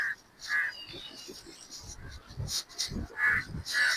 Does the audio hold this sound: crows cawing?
yes